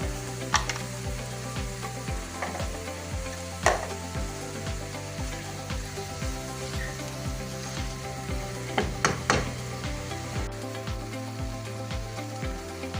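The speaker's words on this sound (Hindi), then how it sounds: "ये प्याज माशाल्लाह हो गया हमारा सौते" Onions sautéing in a pan with crushed dried coriander, a steady close sizzle throughout with occasional sharper crackles and utensil stirring clicks, no voices.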